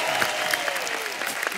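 A studio audience on a comedy talk show claps to welcome a singer to the stage, a loud, even burst of applause with scattered sharper claps and no talk.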